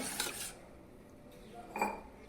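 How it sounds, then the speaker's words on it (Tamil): A spoon stirs gooseberry juice mixed with water and sugar in a glass or jug, giving a few short, light clinks with quiet gaps between them and a sharper clink at the end. "வாட்டர் சேர்த்து நல்லா மிக்ஸ் பண்ணி விட்டுக்கோங்க"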